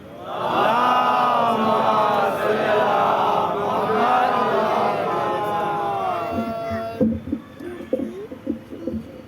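Many mourners at a Muharram majlis in Pune chant salawat together, a loud, sustained chorus of voices that swells in waves, then breaks off near the end into scattered, uneven sounds.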